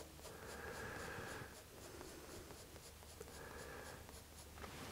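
A pencil sketches loose hatching strokes for shading on paper, making two soft, faint scratching passes of about a second each, separated by a short pause, over quiet room noise.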